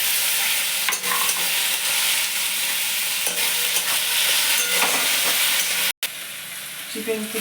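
Chopped garlic fries with onion in white oil in a kadai, giving a constant close-up sizzle with stirring noises. The sound cuts out for a moment near the end.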